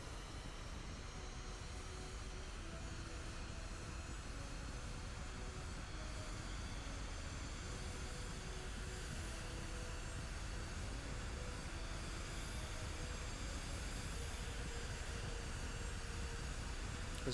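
An aircraft rolling down the runway in the video game Kerbal Space Program 2 gives a steady, droning engine hum with a faint whine that carries on unbroken throughout, without speech.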